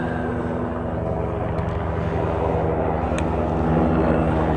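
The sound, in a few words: helicopter flying over a soccer game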